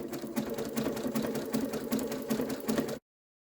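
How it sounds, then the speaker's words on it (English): Sewing machine stitching a notebook cover with a zipper pocket, a close, steady buzzing run of rapid needle strokes that stops abruptly near the end. "now I'm going to start stitching"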